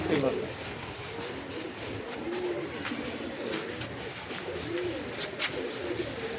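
A Kalshira Giribaj pigeon at a pigeon sale gives repeated low, rolling coos, fairly close, while a person talks over the birds against steady background noise.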